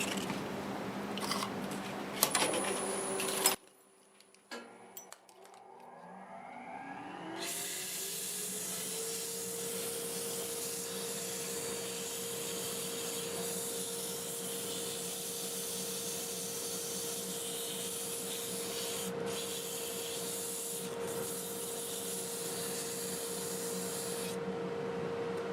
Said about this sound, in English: I'm going to run the lathe in reverse at around 300 RPM. Start with 120 grit.